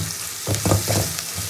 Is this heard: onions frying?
yes